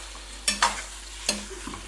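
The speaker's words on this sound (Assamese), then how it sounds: "এইদৰে মই আকৌ 10 মিনিট ভাজিলোঁ" Desi chicken meat fries in a pan, with a soft continuous sizzle broken by a few quick, close scraping stirs of a utensil against the metal.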